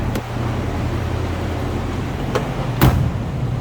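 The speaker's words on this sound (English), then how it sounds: "Door closes nice." A 1965 Ford Mustang door shuts with a single solid thump near the end, preceded by fainter clicks of handling, over steady outdoor hum with no talking.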